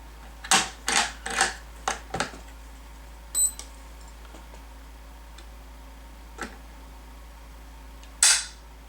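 Trigger pulls on a Ruger American Rimfire rifle during a trigger weight test give sharp, close mechanical clicks, a quick cluster of about six, then a lone snap and a final louder click after a pause.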